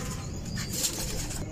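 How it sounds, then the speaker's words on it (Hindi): Pigeons kept as pairs in a loft, close by, with soft cooing and a brief flutter of wings over a steady low background. "बहुत ज्यादा अग्रेसिव है कबूतर"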